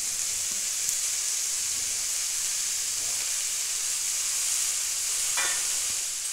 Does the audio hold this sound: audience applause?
no